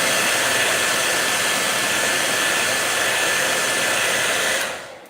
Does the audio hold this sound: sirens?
no